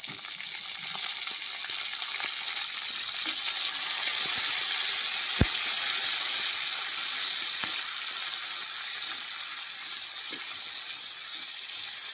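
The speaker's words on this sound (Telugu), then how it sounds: "ఇప్పుడు నేను తాలింపు పెట్టుకున్నాను పచ్చడి నూనె కాగా తాలింపు పచ్చడి వేసుకున్నాం" Steady, bright sizzling of tempering spices, garlic, curry leaves, cumin and dried red chillies, frying in hot oil, continuous and close, with a few faint clicks and stirring taps and no talking.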